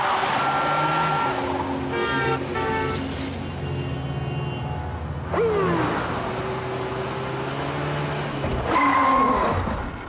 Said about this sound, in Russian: Проверка тормозов после речушки